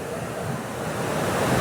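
Strong wind and water rush past at a dam during a heavy rainstorm, with a waterfall nearby. The sound is a steady, dense roar that holds without a break and builds slightly louder toward the end.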